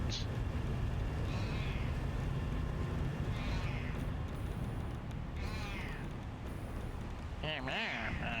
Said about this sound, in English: the loud cat is making a noise for a reason